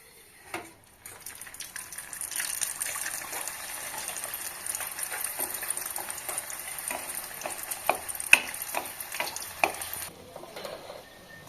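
Steady oily sizzling of a Mughlai egg paratha frying in a pan, with occasional scraping and clicking of a utensil as it is moved around; no talking.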